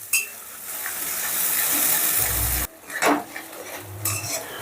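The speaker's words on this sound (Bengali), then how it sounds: "গ্যাসের আঁচটা বাড়িয়ে দিয়ে মশলাটা বেশ ভালো করে কষে নেব" Ginger, garlic and onion spice paste is stir-fried over high heat on a gas flame, a close loud sizzle with scraping spatula strokes and metallic pan knocks, briefly dropping away then resuming.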